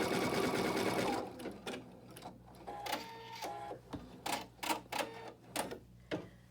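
An embroidery machine stitches a clover design, a dense whir at first followed by quick, spaced clicks and short mechanical bursts as the thread is trimmed, close and clear with no talking.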